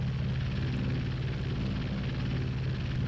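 A propeller aircraft engine in the flight combat game Aces High 2 drones at full throttle, a steady close low rumble with no pauses.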